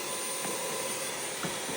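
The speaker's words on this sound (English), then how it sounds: "Clean out by using a vacuum cleaner." A vacuum cleaner sucks dry coffee grounds out of a KitchenAid automatic coffee machine, a steady close whooshing roar that holds without a break for under two seconds.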